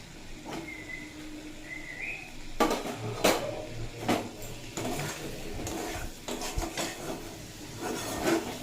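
Spices and fried okra stirred in a metal pan, with irregular clanks and scrapes of a utensil against the pan over a faint background, close and uneven in rhythm.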